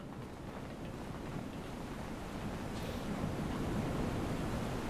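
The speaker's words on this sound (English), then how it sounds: "Massive waterfall." A massive waterfall roars in the Star Trek Online video game at a hydropower site, a steady broad rushing wash of water that swells slightly louder toward the end.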